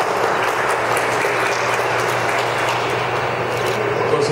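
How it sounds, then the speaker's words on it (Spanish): A dense, steady wash of audience applause fills a plaza event at an antique photography contest, honoring the person in charge of events. The clapping is loud and continuous, with no talk over it. "Un aplauso, por favor."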